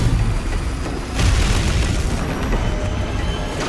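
Heavy weapon fire pounds the Icon of Sin's shoulder in Doom Eternal, a dense, continuous roar of booming blasts and explosions that swells loudly just past a second in and keeps rumbling to the end.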